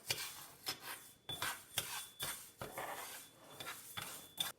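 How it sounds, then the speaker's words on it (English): Dry dal lentils being roasted in a pan over medium heat on a stove, giving repeated scraping, rubbing strokes of a utensil stirring the grains, close and steady with no talk. "and I just roast this dal little bit. Just on the medium"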